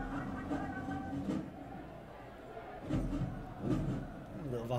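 Football crowd at a 2019 NPSL Southeast Conference semifinal between Chattanooga FC and Inter Nashville FC raising a loud, sustained roar of disagreement, swelling in waves as a commentator talks over it.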